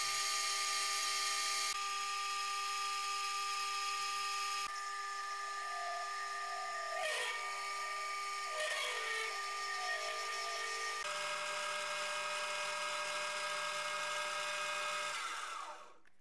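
A solid piece of PVC is machined with a steady high whirring tool, loud and continuous throughout, with brief pitch dips as the cutter bites and a tail-off at the end.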